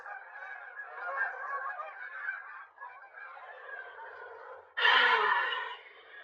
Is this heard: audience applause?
no